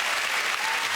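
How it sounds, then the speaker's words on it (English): A TV talk show studio audience claps loudly and steadily, a dense burst of applause filling the short moment with no pause. "that deserves a round of applause"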